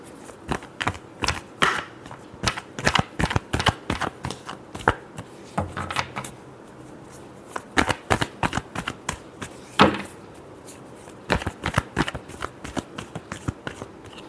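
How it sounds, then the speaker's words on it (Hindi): Tarot cards are shuffled by hand in repeated quick riffles and bridges, crisp close bursts of fluttering card noise with short pauses between them and no talk. "Last shuffle."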